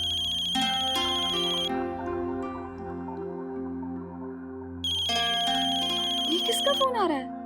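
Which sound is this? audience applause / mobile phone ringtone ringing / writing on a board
mobile phone ringtone ringing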